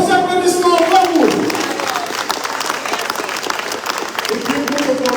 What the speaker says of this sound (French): Vos applaudissements, bravo!